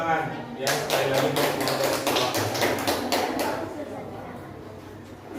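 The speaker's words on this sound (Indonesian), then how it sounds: "tepuk tangan ya sekali lagi" Classroom applause after student presentations at an Indonesian school lesson: a burst of many hands clapping in dense, fairly loud, slightly uneven rhythm that tapers gradually toward the end.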